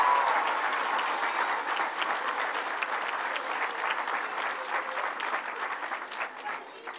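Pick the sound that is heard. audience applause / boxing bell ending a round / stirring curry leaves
audience applause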